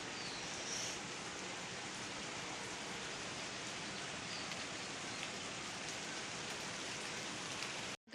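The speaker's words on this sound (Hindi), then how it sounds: "बारिश बारिश हो रही है।" Steady, dense rain falling continuously with a soft hiss, no voices, ending abruptly near the close.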